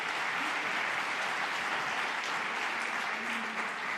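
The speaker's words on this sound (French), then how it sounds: "on peut les applaudir une nouvelle fois" An audience at a franchise business conference gives sustained applause, a dense, even wash of many hands clapping at once that holds steady for the whole stretch.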